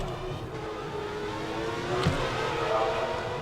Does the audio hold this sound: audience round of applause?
no